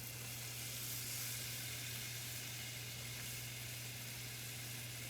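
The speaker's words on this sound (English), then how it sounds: "So our butter is in there. You can see it bubbling and sizzling." Cubed butter melts in a pan for a cauliflower mac and cheese, bubbling and sizzling in a steady, even hiss throughout, with a faint low hum beneath and no voices.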